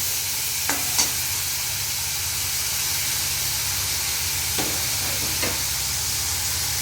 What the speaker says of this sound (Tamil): இப்போ தக்காளி வந்து நல்லா வதங்கணும்.